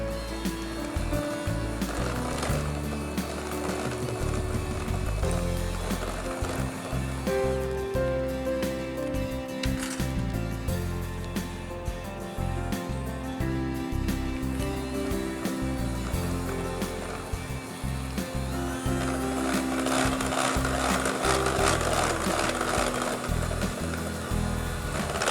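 Electric mixer beating a chocolate butter cream mixture with vanilla essence, a steady whirring drone with a rattling edge that runs unbroken and fairly loud, no voices over it.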